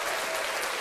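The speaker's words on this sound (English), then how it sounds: "big round of applause for you" A warm round of applause greets a viewer on a live stream, a dense, continuous patter of clapping filling a short, even stretch.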